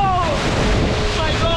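Banana boat riders are tipped into the sea off Thailand, and a steady roar of rushing water and wind noise surges throughout, with faint voices barely audible underneath.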